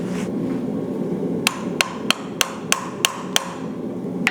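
Eight evenly spaced, ringing hammer blows on a metal bar set on a hardy cut-off during blacksmithing, sharp and close over a low background drone.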